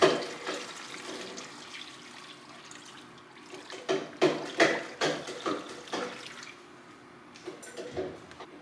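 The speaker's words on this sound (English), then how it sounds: "now we are going to fill them each up with water" Water pouring from a tap into containers for homemade chicken broth, a run of splashing, gurgling bursts with brief pauses as each container fills, close and fairly soft.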